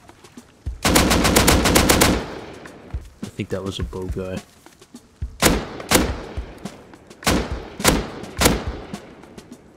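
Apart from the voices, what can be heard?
AK rifle shots in a video game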